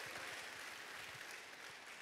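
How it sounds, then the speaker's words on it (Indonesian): A church congregation at a live-streamed Sunday worship service applauds, a faint, continuous, even patter of many hands heard from a distance, with no voices over it. "Tepuk tangan yang terbaik buat Tuhan Yesus"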